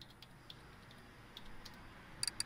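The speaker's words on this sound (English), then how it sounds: "I was typing it all, but obviously that didn't work." Keyboard typing in a car mechanic simulator game, a sparse run of faint, quiet key clicks spread over a couple of seconds, with no voice.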